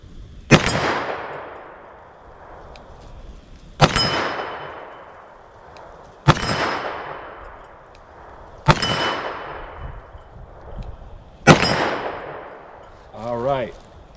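Five loud, sharp .38 Special revolver shots ring out at a steady pace, spaced roughly two to three seconds apart, each with a long decaying echo. They are fired at a target 25 yards away.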